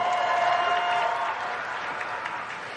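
Audience applause at a BlizzCon World of Warcraft Q&A panel, a broad even wash of clapping in a large hall, loud at first and tapering slightly, no speech over it.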